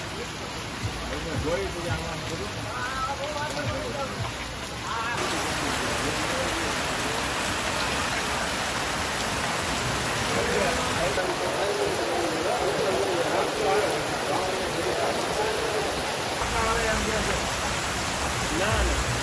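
Heavy rain pours steadily in the town and villages of Gadhada, Botad, a dense continuous hiss that stays loud and even throughout, with no voices over it.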